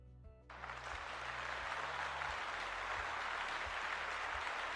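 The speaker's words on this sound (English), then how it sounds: "Let's give them a little round of applause." Applause from a small audience at a live-streamed tabletop game homebrew review forum, a steady wash of clapping that rises quickly after a brief quiet moment and carries on evenly to the end.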